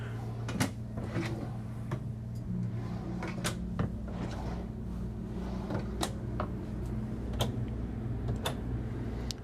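An AV cabinet door in a 2024 Renegade Explorer 40ERB RV is opened, heard as scattered soft clicks and knocks of the cabinet hardware over a steady low hum, close by and with no talking.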